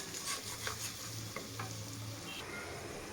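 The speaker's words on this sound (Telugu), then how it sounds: "వేసుకొని ఇది కూడా పచ్చి స్మెల్ పోయేంత వరకు మంచిగా వేయించుకోవాలి" Mint paste fries in a pan with a soft, continuous sizzle. Light stirring scrapes come through close up, and no one speaks.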